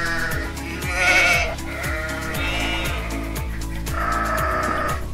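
Sheep bleat repeatedly, several overlapping calls at steady volume with a low rumbling hum underneath throughout.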